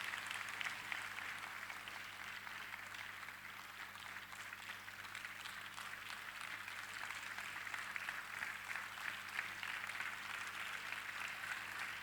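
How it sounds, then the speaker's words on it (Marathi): Steady, continuous clapping from a large gathering during an honour ceremony at a Marathi kirtan festival, even and unbroken over a low electrical hum. "जोरदार टाळ्या वाजवायच्या आहेत सन्मान होईपर्यंत आपण सर्वांनी"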